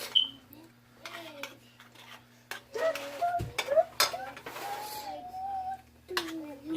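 A spoon mixes degue couscous with milk in a bowl, making scattered light clinks and scrapes of utensil against dish. Someone talks over the stirring.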